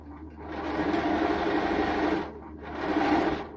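A sewing machine runs steadily while stitching a sleeve cuff, a continuous close whirring hum that pauses briefly near the end before resuming.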